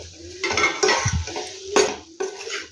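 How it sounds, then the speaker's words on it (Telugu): Boiled potatoes being stirred with pounded masala in a pan for an aloo fry, with a spoon scraping and clinking against the metal in a few separate bursts over a faint sizzle. "మనము ఉడికించుకున్నటువంటి బంగాళాదుంపలు యాడ్ చేసుకుందాం సో అంతా బాగా మిక్స్ చేసేసుకోవాలి"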